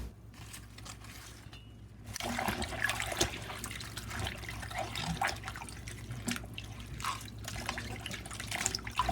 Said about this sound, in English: Submerge in and out of water.